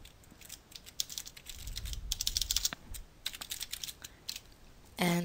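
Commands typed on a computer keyboard, a school computer's command prompt, heard as irregular close clicking keystrokes in quick runs and pauses, ending with a short tonal beep.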